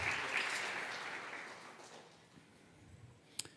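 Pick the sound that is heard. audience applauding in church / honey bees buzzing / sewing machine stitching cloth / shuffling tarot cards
audience applauding in church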